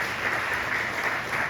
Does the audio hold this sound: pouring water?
no